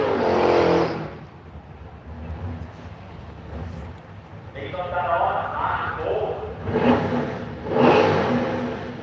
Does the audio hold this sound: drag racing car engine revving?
yes